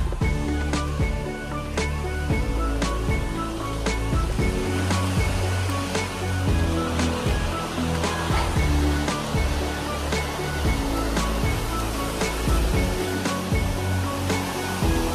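A waterfall and stream at Tsing Tai in Tuen Mun roar in a loud, continuous, dense rush of flowing water that fills the whole stretch without pause.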